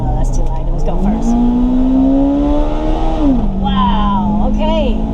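A 2002 Toyota Celica GTS with an automatic gearbox in manual mode accelerates hard, its engine note climbing steadily loud and close, then dropping with an upshift and rising again, while a voice talks over the top.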